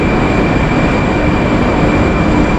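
A Moscow metro subway train produces a loud, steady rumbling roar that fills the space evenly throughout, heard close from within the underground system with no voices over it.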